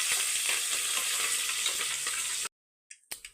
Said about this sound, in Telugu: ఇందులోకి పోపు దినుసులు వేసుకున్నాను. ఇప్పుడు దీన్ని లైట్గా ఫ్రై అయినాయండి.